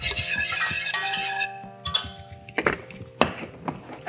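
A flour roux for gravy stirred in a pan, with repeated clinks and scrapes of a utensil against metal coming in irregular bursts, close and fairly loud, with no talking.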